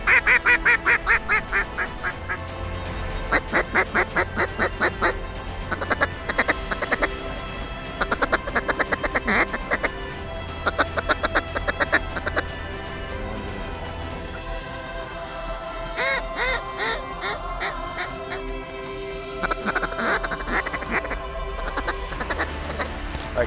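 Wild ducks and geese call in a loud, continuous chorus of quacks and honks, with dense overlapping calls from many birds nearby during a Canadian waterfowl hunt.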